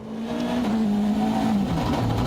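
Hyundai rally car sliding sideways under braking on a treacherous wet road, a steady loud engine drone with a sustained tonal whine and tire noise throughout, close and continuous.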